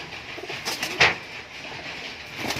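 A giribaz high flyer pigeon coos in a loft, giving a few close, moderately loud throaty coos over a steady faint background hum.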